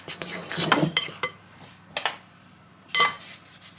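Dry flour and fast action yeast being stirred in a bowl, giving a few scattered scraping clinks of utensil against the bowl in short bursts, fairly close and moderately quiet, with no speech.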